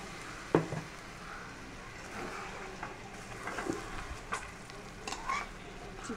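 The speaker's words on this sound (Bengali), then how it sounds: "এই চিকেন কষানো হচ্ছে।" Chicken being sautéed in a pan with salt, turmeric, garlic, ginger and onion paste, giving a soft steady sizzle broken by a few sharp clicks and scrapes of a stirring spoon.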